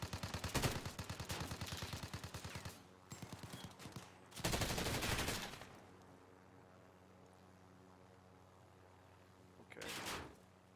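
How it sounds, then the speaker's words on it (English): Gunfire from Call of Duty, heard as loud, rapid bursts of automatic fire in the opening seconds and again around the middle, then a shorter burst near the end after a quieter stretch, with a voice talking at times. "who's shooting at us?"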